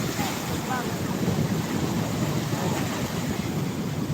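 Choppy sea waves at Balogo, Pasacao wash steadily in a continuous broadband roar, with wind buffeting the microphone and a faint voice briefly audible.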